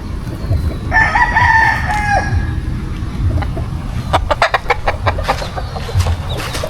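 A white Kelso rooster crows loudly and nearby in one long call, followed by a quick series of sharp clucks over steady farm background noise.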